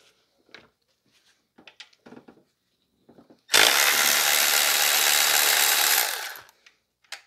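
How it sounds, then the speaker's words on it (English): Work on the bolts and bracket of a 2005 Toyota Corolla: faint clicks and small taps from tools, then a loud, steady whirring burst of about two and a half seconds that stops abruptly, followed by a few light clicks. "we're gonna start removing some bolts and stuff"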